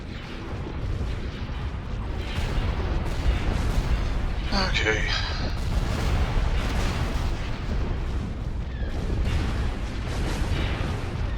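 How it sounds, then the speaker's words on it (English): Turbo laser fire in a Star Wars real-time strategy game: a dense, continuous roar of booming blasts and explosions layered into a loud battle wash, with a brief whistling zap midway and a voice speaking a single word over it. "All fire on those turbo lasers."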